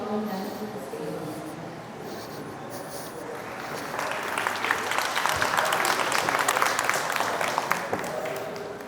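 An audience at a developer conference applauds to welcome a speaker to the stage; the clapping swells from quiet rustling into a steady, fairly close round that holds to the end, with a voice faintly heard early on.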